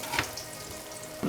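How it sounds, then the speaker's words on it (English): Green tomatoes in breading fry in hot oil in a pan, giving a steady close sizzle with a brief louder burst at the end. "You want that aggressive sizzling."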